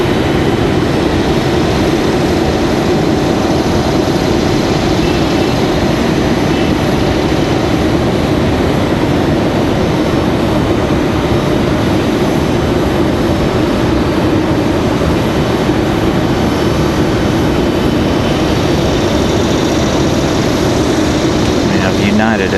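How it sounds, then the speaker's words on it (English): A JetBlue airliner taxis for departure at Raleigh-Durham airport, its engines giving a steady, loud, unbroken rumble and whine over the whole stretch, with a voice talking over it. "Check out JetBlue's departing taxi here."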